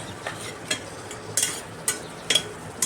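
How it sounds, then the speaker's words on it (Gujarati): Sweet potato curry with red chilli powder, spices and a little water stirred in a pan, a steady soft frying hiss with spoon scrapes and a few sharp clinks against the pan, no talk. "પછી બધા મસાલા મિક્સ થઈ જાય ત્યાં સુધી એને હલાવતા રહીશું"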